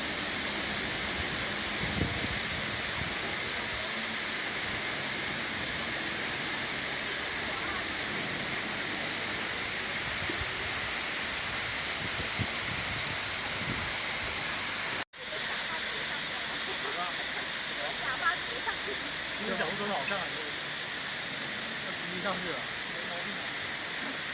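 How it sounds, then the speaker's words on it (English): A canyon waterfall in China roars steadily and loudly throughout, a dense continuous wash of rushing water with a brief dropout midway. "Yeah, fairly decent waterfall."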